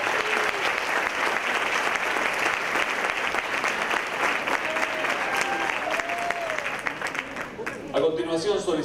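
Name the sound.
applause for graduates at ceremony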